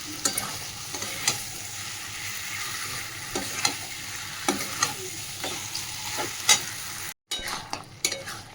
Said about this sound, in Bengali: গ্যাসটা কমিয়ে দেবো, দিয়ে আস্তে আস্তে কষাবো।